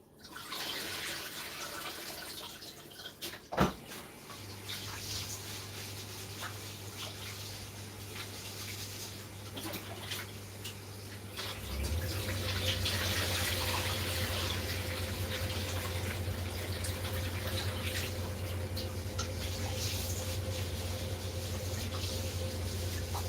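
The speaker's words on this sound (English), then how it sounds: "Okay, so my rice is nicely washed." Tap water pours steadily into a pot while rice is rinsed at a home kitchen sink, with a brief clunk near the start and the flow growing louder and fuller partway through.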